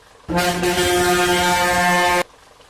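A bus horn in the Bus Simulator Indonesia Kerala traffic mod, a single loud, deep, sustained blast of about two seconds that starts and stops abruptly.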